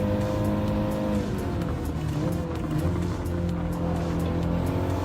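An Audi race car in a racing video game roars loudly and continuously, its engine pitch climbing and dropping through gear changes while tires squeal through corners.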